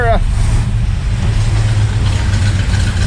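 A 1961 Pontiac Laurentian with a four-speed manual on the move, its engine a loud, steady low rumble from inside the car, with a brief voice at the start.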